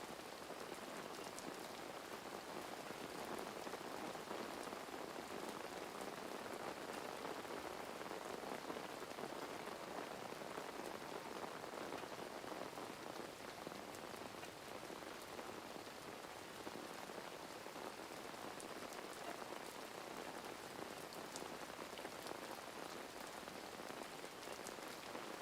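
Steady rain patters densely on a surface at a carp-fishing camp, an even hiss of drops that continues without a break.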